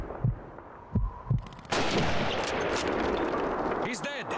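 A rifle shot in Call of Duty 2 in a World War II city battle, heavy single report following slow thudding heartbeat pulses, then a long rumbling echo with a voice speaking near the end.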